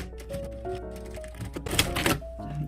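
Sewing machine stitching the upper part of a lined cropped jacket with a zipper foot fitted, a steady rapid mechanical clatter at moderate level with a brief louder burst partway through.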